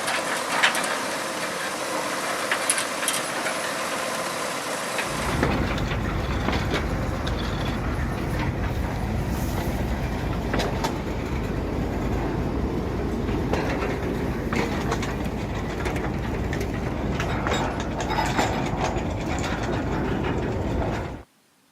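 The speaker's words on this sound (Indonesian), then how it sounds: "kereta sudah melewati jalur double track ke arah barat daya ini" A sugar mill lorry train rolls past on double track near the Jatiroto sugar factory, starting with a sudden loud rumble and continuing with steady clattering and mechanical rattling before stopping abruptly.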